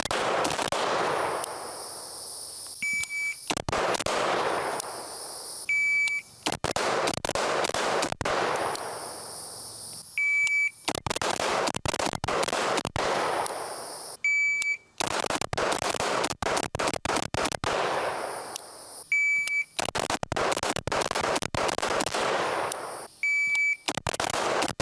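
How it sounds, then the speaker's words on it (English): Shot timer beeps followed by bursts of 5.56 rifle fire, shot without a brace or stock; sharp loud cracks come in several rapid strings, each starting after a short electronic beep, with brief pauses between strings and no talk. "let's go ahead and use the shot timer and see if we can put some accurate fire downrange using this weapon"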